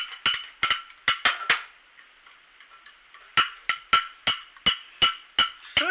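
A utensil stirs eggs in a dish before freeze drying, making two runs of sharp, faint, quick clinks and taps with a short pause between them.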